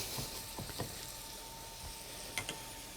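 Roughly chopped onions sizzle gently as they sweat in a pot, a steady soft hiss with a few light clicks and taps of stirring.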